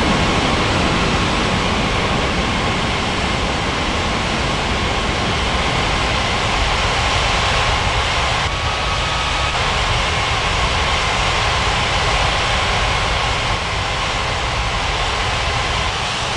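Steady broadband jet airliner engine roar in an air traffic control game set at Bali's Ngurah Rai airport, a constant unbroken drone with no voices over it.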